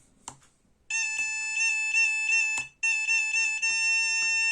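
A TinySA Ultra handheld spectrum analyzer, set with an alarm level for drone detection, sounds a continuous high electronic tone, briefly interrupted and resumed, with a few faint clicks before it starts.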